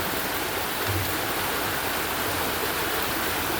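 Heavy rain pouring down hard in St Thomas, a steady, dense wash of noise that stays loud and unbroken throughout with no voices.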